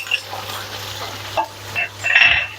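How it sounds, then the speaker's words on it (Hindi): Garlic ginger paste frying with chicken and browned onions in a pot for biryani, steady sizzling with stirring scrapes and a louder burst of hiss toward the end, no talk. "साथ ही हम इसमें लहसुन अदरक का पेस्ट ऐड कर देंगे"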